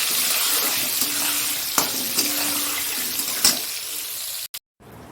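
Potatoes frying in oil in a home kitchen, a steady close sizzle with a few faint clinks, ending in sudden silence.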